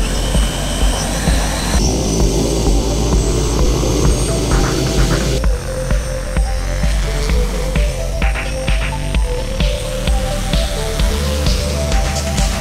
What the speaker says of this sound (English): Today we performed our first flight test with our next-gen VTOL drone